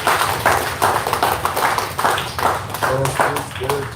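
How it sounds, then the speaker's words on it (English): Applause and clapping from an audience at a boxing event, a continuous patter of many hands sustained throughout, fairly loud, with voices mixed in. "I want to just give a big round of applause to Derek James"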